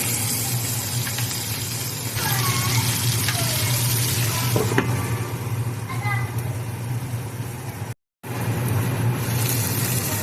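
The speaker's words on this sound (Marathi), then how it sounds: "वांगे दोन मिनटं अशी तेलातच थोडी वाफू द्यायची" Eggplants frying in oil in a pan, with a steady close sizzle under voices talking, broken by a brief silent gap near the end.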